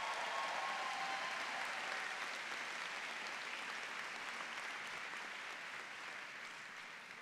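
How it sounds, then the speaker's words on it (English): Applause from the audience at the May 2023 St. Thomas University Benjamin L. Crump College of Law commencement, a broad, sustained ovation of many hands that holds steady and then fades gradually over several seconds. "Give them a big round of applause."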